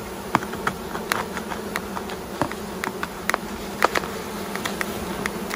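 Honey bees trapped in a jar with icing sugar during a mite test buzz in a soft, continuous drone, with frequent small tapping clicks and patters as they knock against the glass.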